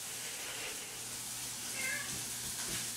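A house cat gives a short meow partway through, faint against a steady indoor background hum, with no other sounds standing out.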